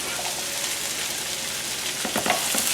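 Onions and green chillies fry in a pan for a shrimp dish, giving a steady close sizzle with a few brief stirring scrapes near the end. No one speaks.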